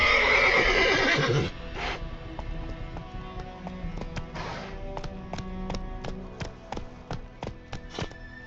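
A horse in The Witcher 3: Wild Hunt whinnies loudly at the start. Its hooves then clip-clop in a steady galloping rhythm with sharp, evenly spaced taps.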